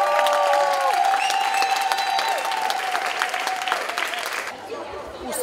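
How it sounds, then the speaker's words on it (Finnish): Big applause from a crowd welcoming home the Finnish gymnastics world champions, a dense steady clapping with cheering voices over it, fading near the end as talk takes over. "Onnittelut kaikille! Isot aplodit!"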